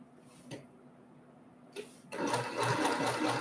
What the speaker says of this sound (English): I'm going to sew the next piece that goes in the top row